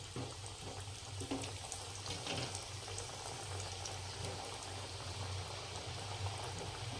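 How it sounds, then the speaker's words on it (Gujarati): Wheat flour muthiya, dropped one by one into hot oil for Gujarati jaggery laddoos, fry with a steady, dense bubbling sizzle that holds at an even level throughout, with no talking. "હવે આપણે એની અંદર મુઠ્ઠિયા એક એક કરીને"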